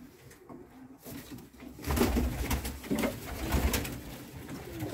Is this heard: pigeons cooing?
yes